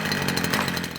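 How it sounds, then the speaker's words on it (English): A steel-bladed string trimmer runs continuously at close range in a rural valley, its buzzing engine drone steady and loud throughout with no pauses. "It's my steel strimmer"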